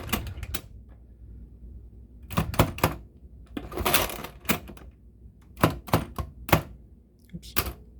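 A hand-cranked Marchant mechanical calculator gives off bursts of loud mechanical clacks and rattling thunks as its handle is pulled out and turned, separated by short quiet gaps.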